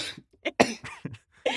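A string of rough, hacking coughs from an adult man in quick bursts, close and loud, with brief pauses between them.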